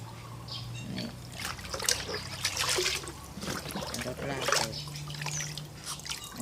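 Homemade fermented rice liquid mixture being stirred, scooped and poured, with steady trickling and splashing throughout and a low hum underneath.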